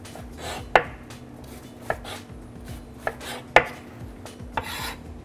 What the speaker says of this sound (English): now that the grid, let's call it, is completely in the onion, we're just going to cut straight down